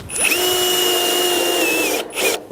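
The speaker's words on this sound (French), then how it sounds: "Je visse une onde sur deux." A cordless power drill drives a screw through corrugated roofing on a garden shed, a close, loud, rising whir that holds steady for under two seconds before cutting off, followed by a brief second burst.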